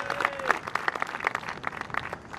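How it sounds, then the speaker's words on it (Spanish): Team staff applauding in the F1 2021 racing game, a brief burst of crowd clapping, dense and fairly loud, with a brief tone near the start. "os merecéis un fuerte aplauso."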